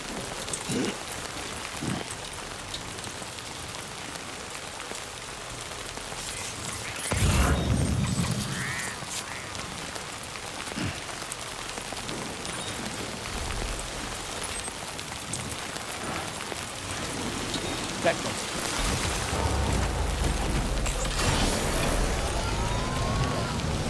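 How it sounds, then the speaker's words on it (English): Steady rain hisses throughout a Death Stranding 2 game scene, a constant dense patter with a few brief louder thumps and swells, with no speech over it. "I don't think this rain's gonna stop."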